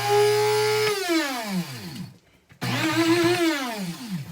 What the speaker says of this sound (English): So now I have my dried herbs in my secondhand coffee bean grinder